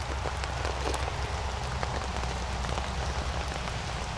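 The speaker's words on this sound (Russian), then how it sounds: "О, снег идет. Снега-дождь." Sleet of mixed snow and rain falls outdoors in the Altai Republic at about two degrees, a steady close hiss of wet precipitation patter with no voices throughout.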